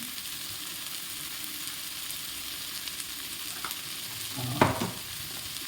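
Spices are stirred in a frying pan for a masoor dal and egg tadka: a steady soft sizzle, then one louder scrape of the stirring spoon near the end.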